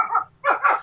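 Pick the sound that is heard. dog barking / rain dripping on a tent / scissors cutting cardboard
dog barking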